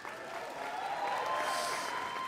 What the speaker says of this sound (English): If you do, clap your hands, please.